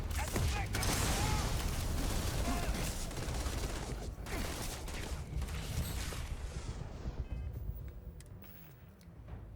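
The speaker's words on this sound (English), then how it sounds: "I have to change my weapon because this laser pistol is useless." Laser pistol fire in Starfield during a fight: a busy stream of rapid shots and impacts over a dense, continuous game soundscape, thinning slightly toward the end, with faint voices mixed in.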